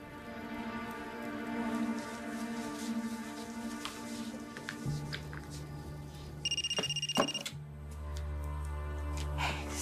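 A telephone rings through an outgoing call, its repeated electronic ring tones sitting at moderate level over a steady background hum, with a brief louder burst of tones near the end and no talking.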